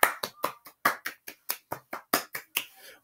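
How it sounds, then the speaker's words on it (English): A small group claps a round of applause during a Read Across America reading session, brisk uneven claps close by, sharp and snappy, with no talking. "Round of applause"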